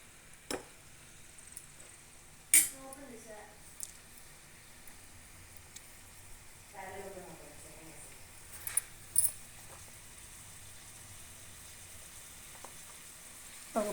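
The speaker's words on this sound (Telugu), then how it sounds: "ఆనియన్ బాగా బ్రౌన్ కలర్ వచ్చేదాకా వేపుకోవాలి." Onions frying in a pan until brown for spicy pepper chicken, a soft steady sizzle held low and close, broken by a few sharp clinks and stirring scrapes.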